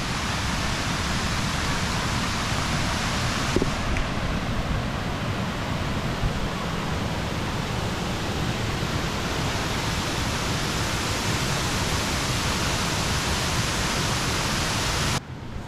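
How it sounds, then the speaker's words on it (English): Steady, loud broadband rush of a waterfall on a New England trip, heard close up as a continuous roar with no pauses or voices. "I wanted to come over here and let you guys see this waterfall"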